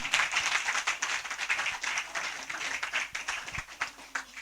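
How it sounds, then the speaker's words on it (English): Lecture audience giving a round of applause, a dense ragged clapping of many hands sustained across the whole stretch with small swells, moderately distant. "But let's give him a round of applause."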